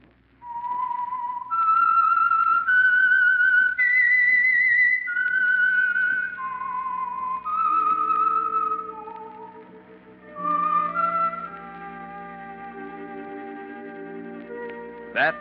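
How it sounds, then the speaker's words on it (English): A lone human whistle carries the signature tune of The Whistler radio program, a clear, slightly echoing melody of held and sliding notes, backed toward the end by soft orchestral music from 1946. "That whistle is your signal for the Signal Oil program, The Whistler."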